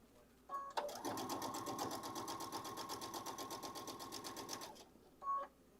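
A sewing machine runs steadily for several seconds with a fast, even stitching rhythm as its feed teeth ease the bottom fabric through, with brief clicks before and after the run.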